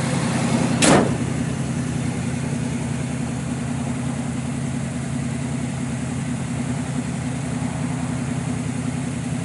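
A 1967 Pontiac Firebird with a 326 four-barrel V8, factory air cleaner and factory exhaust, settles into a steady, close idle after a brief loud burst as it starts.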